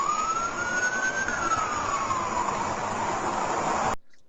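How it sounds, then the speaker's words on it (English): An emergency siren wails steadily at a distance, one long rising and falling tone that carries on for several seconds before cutting off abruptly. "Lady, I can hear sirens."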